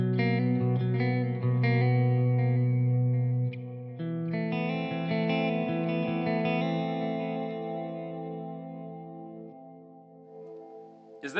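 An electric guitar played through effects straight into a camera microphone rings out, with sustained chords and notes thick with chorus and echo, fading slowly before a sharp click at the end.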